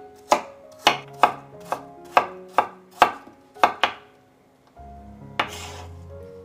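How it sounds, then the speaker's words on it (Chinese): A kitchen knife chops peeled water chestnuts on a board in a run of about nine crisp, evenly spaced close strikes, a short pause, then one more chop over faint clatter. "然后再给它切碎，也不要切得太碎，留有一点点颗粒感"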